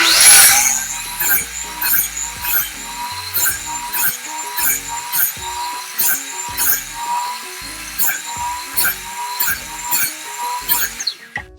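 A Festool miter saw whines through a long run of repeated cuts, its motor spooling up and slowing in a steady rhythm of short bursts, loud and close in a woodworking shop.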